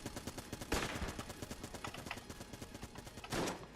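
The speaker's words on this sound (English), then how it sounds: "We're trying the shotgun." Rapid, punchy gunfire from a shotgun in the video game Enter the Gungeon, a dense run of repeated blasts with a couple of louder bursts, continuous and close with no talking.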